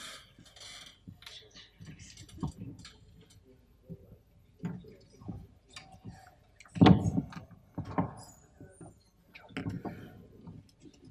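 A creaky chair at a panel session creaks in a string of short, faint creaks and knocks scattered across a quiet room, with one louder creak about two-thirds of the way through.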